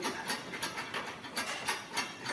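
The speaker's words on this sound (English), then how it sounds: "I'm just going to spin these up on these two bolts here" Nuts are spun onto two bolts on a Land Rover in a workshop, giving a quick series of light, evenly spaced ratcheting clicks heard close up, about a dozen in a row, with no talking.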